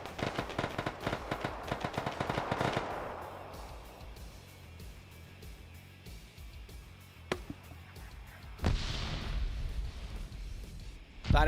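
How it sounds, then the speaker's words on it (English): Artillery fire in a military video game: a rapid barrage of sharp blasts in the opening seconds fading into a rumbling tail, then a lone crack and another heavy boom with rolling echo near the end. "Thought I heard more artillery coming in."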